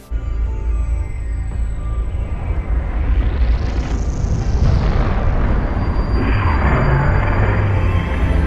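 A supernova explosion sound effect from a space exhibition, a loud, deep, continuous rumble under a rising and falling whooshing tone that swells and sustains throughout.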